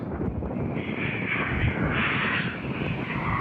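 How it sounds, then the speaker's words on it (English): A Ryanair airliner departing Fuerteventura Airport roars steadily at a distance, a broad rumbling jet engine wash with gusty wind buffeting the microphone, and no talking. "this Ryanair just going back to Milan"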